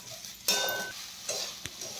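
Sabudana khichdi with crushed peanuts and salt is stirred in a pan: a short burst of scraping and sizzle, followed by a couple of fainter scrapes, close and alone.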